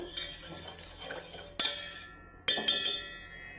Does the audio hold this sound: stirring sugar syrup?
yes